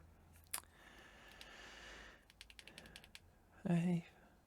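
A few quiet clicks of the fire button on a Geekvape L200 vape mod, a short rapid run of small close taps amid faint background and a brief vocal sound.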